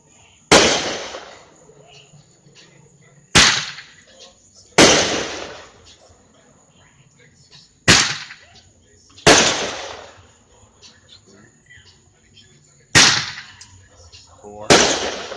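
Seven sharp bursts from a 2017 60 gram Great Grizzly canister shell demo go off at uneven intervals, each crack trailing into a crackling, fading tail. They sound fairly near and loud against a quiet outdoor background, with no talking.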